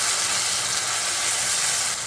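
Water poured into frying cumin and chilli paste in a pan, a loud steady steamy sizzle and hiss that holds without a break.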